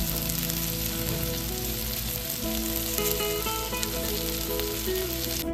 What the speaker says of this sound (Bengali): তাই এইদিকে আমি করলা রেডি করছিলাম ভাজার জন্য।